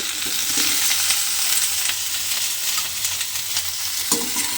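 Cauliflower, pumpkin and potato pieces frying in mustard oil in a kadai, a steady close crackling sizzle with occasional stirring scrapes and no talking.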